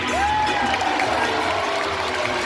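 Audience applause and cheering at a Super Dogs live dog show at the CNE, a steady dense clatter of clapping from a crowd filling the whole moment, with a whistle-like tone sliding through.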